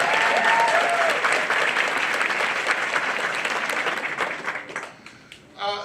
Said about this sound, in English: let's give a round of applause to Dr. Hill.